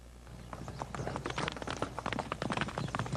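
Many horses' hooves clopping on hard ground within the walls of the palace of Meknes, a busy, overlapping clatter that grows denser and closer, with no speech.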